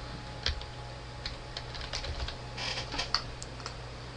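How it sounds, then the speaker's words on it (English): A name is typed on a computer keyboard: a loose run of light, scattered keystrokes with uneven gaps, close and fairly quiet over a faint steady hum. "First things first, we'll type in the name."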